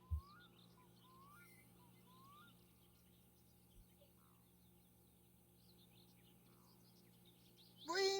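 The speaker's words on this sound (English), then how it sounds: "Have we missed these bird sounds?" Birds chirp and trill in short repeated phrases inside the game My Summer Car, faint and airy over a low steady hum, with a couple of soft thumps and a brief louder burst at the end.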